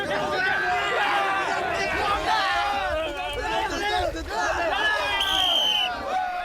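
Army special forces commandos playing a three-man cavalry battle game in water, their many voices overlapping in loud, continuous joyful shouts and cheers.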